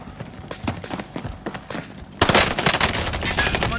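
Rapid automatic gunfire from Call of Duty: Modern Warfare, a dense fusillade of loud repeated shots that jumps to a heavier, closer burst partway through and keeps going.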